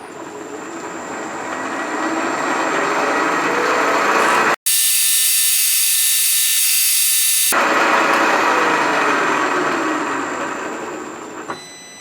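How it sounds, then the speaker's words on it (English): A 149 drill bit bores a hole in a part for a Hemingway Kit spherical ball turner, a continuous loud grinding whir broken by a brief gap and a harsher high-pitched stretch, with no talking. "I'm going to drill it with a 149 drill and then come back with a 156 drill."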